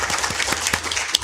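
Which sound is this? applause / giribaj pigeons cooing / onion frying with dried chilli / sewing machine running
applause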